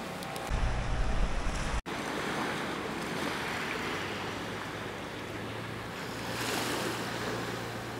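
Surf washing steadily onto a beach at Bauline East, a continuous broad rush with a gentle swell near the end, heard alone with some wind on the microphone and no voices.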